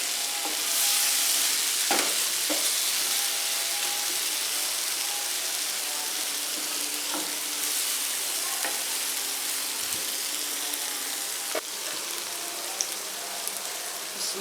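Chicken liver and heart fry in a little oil on a tawa, making a constant bright sizzle broken by a few sharp pops and clinks of stirring, heard alone without speech.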